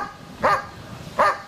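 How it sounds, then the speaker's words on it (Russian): A guard dog barks twice at goats, two short, fairly loud barks about three-quarters of a second apart over quiet background. "Это он лает на этих коз."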